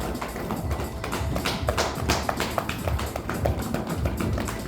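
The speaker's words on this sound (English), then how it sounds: "So we start with the hips and knock all around your hips." Hands knocking rhythmically around the hips during a qi gong self-massage exercise, a rapid run of soft dull taps repeating steadily and close, with no voices.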